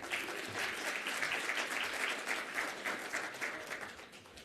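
Audience at a summit closing ceremony, the Global African Hydrogen Summit 2025, giving a sustained round of applause, even and continuous but fairly faint, with no talk over it.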